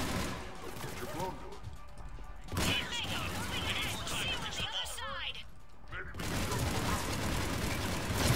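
Gunfire from a heavy-recoil weapon in the video game Mass Effect 3, with bursts of shots and mechanical clatter running through the whole clip over busy game sounds, while a voice talks throughout.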